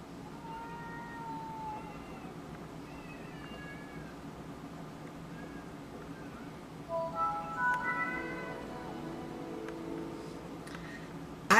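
Several cats meow repeatedly in a backyard, with a mix of short and drawn-out calls; a louder, busier cluster of meows comes near the middle against steady outdoor background noise.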